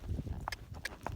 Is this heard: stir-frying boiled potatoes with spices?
no